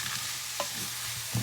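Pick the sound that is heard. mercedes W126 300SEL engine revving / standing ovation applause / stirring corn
stirring corn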